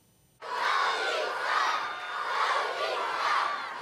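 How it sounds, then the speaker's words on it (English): Junior public school students in Toronto's Beaches cheering for the Maple Leafs before a home playoff game against the Florida Panthers, a sudden burst of high-pitched children's shouting and screaming that swells in waves and holds loud to the end. "Q Beach Junior Public School students cheer on the Leafs as they get set to take on the Florida Panthers at home for Game 5"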